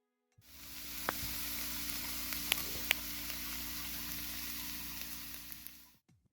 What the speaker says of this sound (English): It's time for a sizzle check.